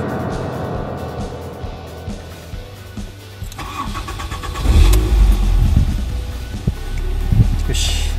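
A car engine cranks and catches, then idles with a low rumble and a couple of revs, fairly close and loud, during an oil change.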